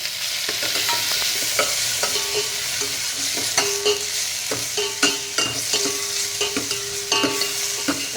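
Ghee sizzles steadily in a pan as garlic and small onion pieces fry, with frequent scraping and clinking from a stirring spoon heard close up and no voices.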